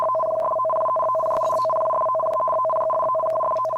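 A steady two-tone Japanese emergency alert sounds continuously from a phone, with faint clicks and pulses running through it.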